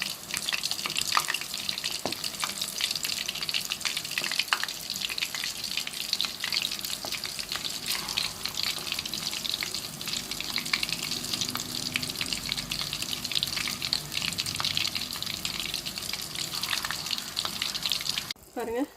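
Mutton kola urundai meatballs fry gently in oil over a low flame, with a continuous bubbling sizzle heard up close and a few faint clinks along the way.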